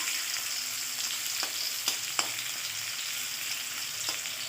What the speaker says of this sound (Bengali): এবার আমি ওই পিস করা কাঁকরোলগুলো ভেজে নেব।